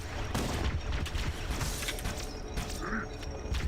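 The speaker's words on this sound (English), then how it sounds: "Who's shooting at me?" Gunfire rattles toward the player in a video game, a dense, steady barrage of shots and impacts lasting throughout at moderate volume.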